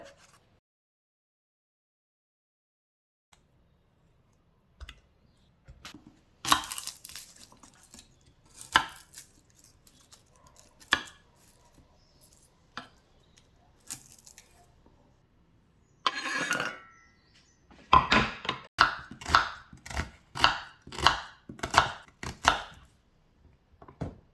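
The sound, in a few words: knife chopping tomatoes in half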